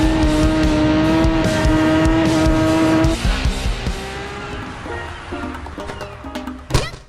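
Racing motorbike engines from a video game wail at high revs with a steady pitched tone, then shift and fade into rising and falling passes with tyre squeal and a sharp burst near the end.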